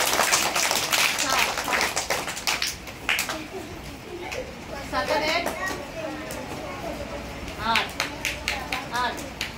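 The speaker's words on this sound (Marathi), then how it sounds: "टाळ्या वाजून द्या रे पुन्हा एकदा" Children and adults at a Zilla Parishad primary school clap for a child in short bursts of nearby applause, with adults talking between and over the claps.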